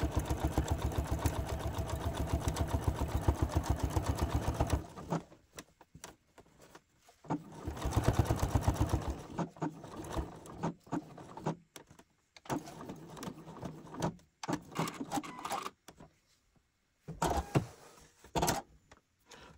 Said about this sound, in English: So I will be sewing my pocket piece on at 5/8 of an inch seam allowance between the dots.